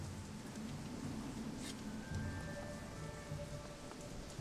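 Pelting rain pours steadily in a night scene of Shadowrun: Hong Kong, where squatters huddle around a low fire; a dense, even hiss of rainfall with faint distant rumbles, no talking.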